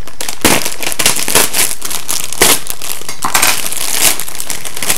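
A bag of fresh Brussels sprouts, already cleaned, crinkles and rustles close to the microphone in steady handling bursts with sharper crackles throughout, and no talking.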